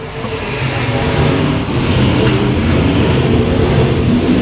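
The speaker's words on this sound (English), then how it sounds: "Vic Jr. going to take over command of heat race number 2 presented by R&R Timber." Race cars roar past during a heat race at Boothill Speedway, a loud, sustained engine drone with rising revs as the pack speeds by close to the stands.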